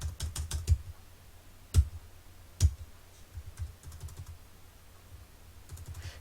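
Keys tapped on a computer keyboard while entering the amount 74 in an accounting program, a quick burst of close, crisp clicks followed by a few isolated keystrokes and softer scattered taps, with no talking.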